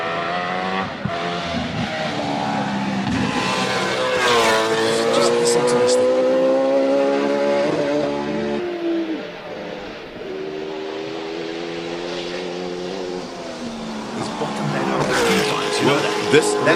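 A race car on wet tires at the Simola hillclimb revs hard through rising and falling engine notes and gear changes, loud and nearby, with a commentator's voice over parts of it.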